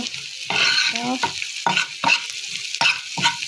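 Cumin, coriander and other spices fry in hot oil for chicken tehari while a spoon stirs them in repeated scraping bursts over a constant sizzle, close and without talk.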